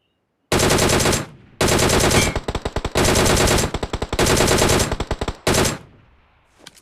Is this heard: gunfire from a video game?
yes